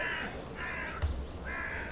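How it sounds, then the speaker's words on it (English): Crows in The Last Door point-and-click game give three drawn-out, harsh caws at a steady pace over a low, constant ambient rumble, with a soft thud in the middle. "A murder of crows is eating eagerly."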